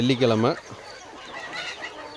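Chickens on an integrated farm give a few soft clucks and faint calls at moderate distance, right after a voice speaks over the start.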